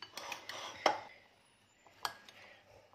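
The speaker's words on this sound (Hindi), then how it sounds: "अच्छी तरह मिक्स कर लेना जी इनू।" Spoon scraping and clinking against a bowl while sweet corn salad is mixed, a few sharp clattering knocks with quiet gaps between, soft and close.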